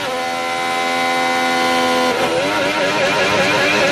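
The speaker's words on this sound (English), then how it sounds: "Shifting down all the way through the gears." A Formula 1 race car with a smoking fault at the Australian Grand Prix, engine shifting down through the gears: a loud, sustained engine tone that drops and breaks into a rough, wavering note partway through, no talk.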